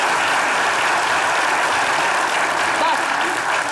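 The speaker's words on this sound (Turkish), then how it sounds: "bak alkış geldi." Studio audience applause at a Turkish comedy sketch show, a steady, dense wash of clapping that stays loud and even throughout, with no pauses.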